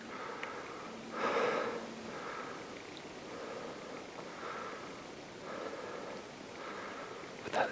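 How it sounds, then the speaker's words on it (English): Heavy, rasping breaths of someone hiking up steep wooded terrain, slow wheezy inhales and exhales repeating close to the microphone, with a faint rustle at the end and no talking. "Sorry about the breathing."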